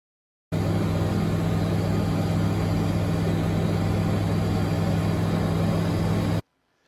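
Steady, dense drone of an RV-12 light aircraft's engine in flight with RPMs held low in bumpy air, loud and unbroken, cutting off abruptly near the end, no voices.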